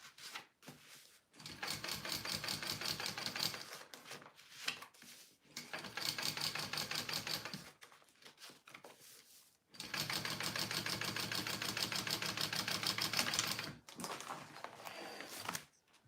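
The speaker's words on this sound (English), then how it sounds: "you're going to be top stitching this little centerpiece down like this" A sewing machine top stitches a small fabric centerpiece on a bow fanny pack, running in steady bursts of rapid rhythmic stitching, each a few seconds long, separated by short pauses and handling clicks.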